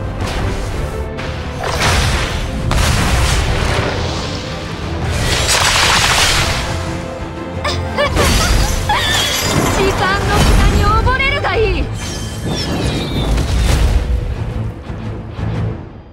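Loud explosions and booming blasts in the video game Echocalypse: The Scarlet Covenant burst repeatedly, with whooshing and shattering effects, while a voice talks over the chaos throughout.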